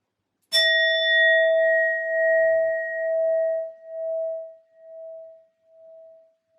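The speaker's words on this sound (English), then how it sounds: "I will be using my sound bowl to clear and set the energy" Sound bowl struck once, a clear metallic ding that rings on with a pure sustained tone and slowly pulsing fade over several seconds, alone and fairly quiet.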